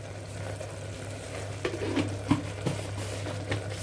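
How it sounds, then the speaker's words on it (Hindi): A spoon works through Kashmiri rajma and turnip masala frying in a pan, with a soft steady sizzle and a few scraping stirs in the second half. "मिक्स कर देंगे इसे अच्छे से।"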